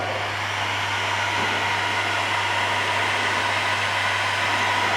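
A heat gun blows hot air over vinyl woodgrain wrap film on a Nissan Patrol Y62 interior trim piece, giving a steady, close whooshing roar with a constant low motor hum.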